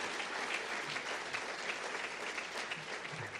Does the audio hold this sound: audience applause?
yes